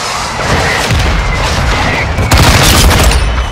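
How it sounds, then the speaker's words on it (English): Explosions from a mortar strike in a video game: a continuous loud barrage of deep booms and rumbling blasts, with a heavier impact near the middle, sounding close and sustained. "mortar strike inbound."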